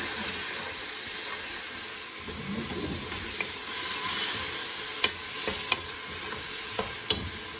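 Spices stirred into an onion-tomato masala for red kidney bean lobia, a steady close sizzle and hiss from the pan with a few sharp spoon clicks against the metal near the end, no talking.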